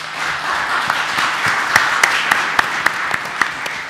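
An audience at a 2014 county commissioner candidate forum applauds steadily, a broad wash of many hands with a few sharper nearby claps standing out, no speech over it.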